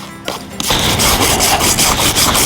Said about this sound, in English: The wire brush also comes in handy for scraping off all of that residue.